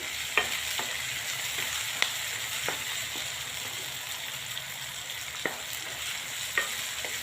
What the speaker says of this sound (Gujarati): ટામેટામાં આવી રીતના થોડા થોડા મિક્સ કરતી જઈશું